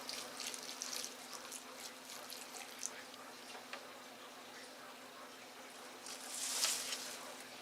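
Soft trickling and dripping water runs steadily from the bottom of a repotted spider plant's pot, with a faint hum underneath, swelling into a brief louder splash near the end.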